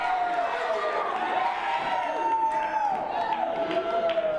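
A wrestling crowd at a live event roars and cheers as one wrestler lays into another, a dense, continuous wash of shouts and whoops mixed with voices and tonal sound throughout.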